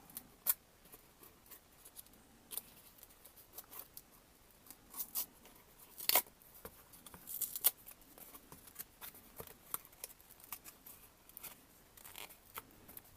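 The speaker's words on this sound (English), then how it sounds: "I'm going to peel this off. So I'll take this paper off" The paper top layer is peeled gently off a piece of cardboard, giving faint, close tearing and rustling scrapes in irregular short bursts against near silence.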